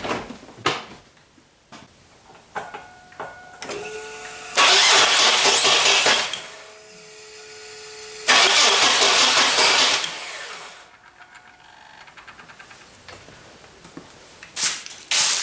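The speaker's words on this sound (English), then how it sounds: "it sounds like maybe my starter is already broken because it's jumping when it cranks over." Car engine being cranked by a starter that jumps, two long grinding cranking bursts with mechanical clatter and clicks between, close by with no talk.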